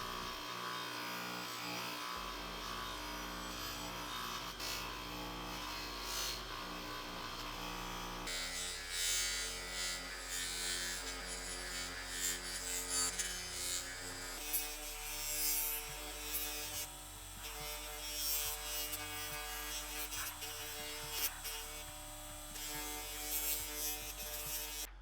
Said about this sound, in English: I'm going to pop the other Scotch-Brite wheel back on and smooth this thing out even more.